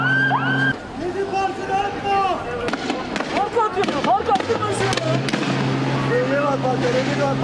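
Fireworks thrown by protesters during a police clash in Istanbul's Taksim Square, with crackling bursts and whistling streaks amid crowd noise and shouting.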